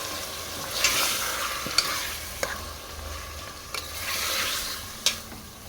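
Mutton with curry leaves cooks in a pan over fried onions, with a soft, steady sizzle and a few sharp scrapes and knocks as it is stirred now and then.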